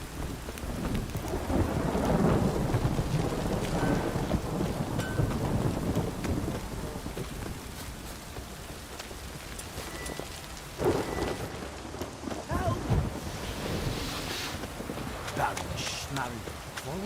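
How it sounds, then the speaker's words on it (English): Heavy rain pours steadily during a thunderstorm in The Witcher 3, with low rumbling thunder swelling early and a sharper crack near the middle, while characters speak intermittently over the downpour. "This downpour's a bastard, it is."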